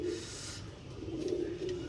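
Lal Shira breed pigeon cooing softly and closely in a low, repeated throaty murmur, two short coo phrases over faint background.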